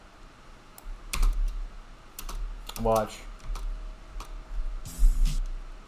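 A computer mouse gives a series of sharp, close clicks in quick bursts, spread irregularly over several seconds, with someone speaking briefly among them.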